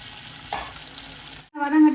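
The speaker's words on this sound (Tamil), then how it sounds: "அப்படி வதக்குவோம். நல்லா வதங்கட்டும்." Green chillies sautéing in a frying pan, a steady close sizzle with a brief stirring burst partway through, then a short pause before louder frying resumes.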